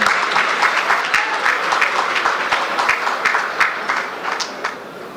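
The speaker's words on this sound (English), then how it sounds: "Let's have some real applause there." Audience at the opening of the Marriott Hotel in Georgetown breaks into loud, sustained applause, a dense close wash of many hands clapping for about five seconds.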